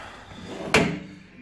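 Drawer in a garage workshop opening or closing with one sharp thud, loud and close, against a faint room hum.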